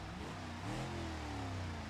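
A car engine fitted with a sport exhaust revs in BeamNG.Drive, its pitch sweeping up and then settling in a steady, throaty drone over a short stretch with no talk.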